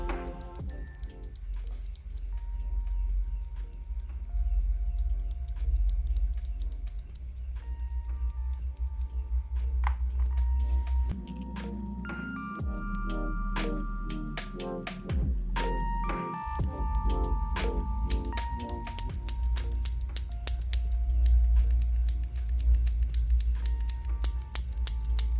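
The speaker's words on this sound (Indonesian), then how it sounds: "Perbandingan suara switch OTEMU Blue yang sudah dimodifikasi dengan yang belum" Outemu Blue mechanical keyboard switches, modified and unmodified, click in a long run of crisp keystrokes and rattling clacks over a low steady hum, with louder sharp clicks near the end.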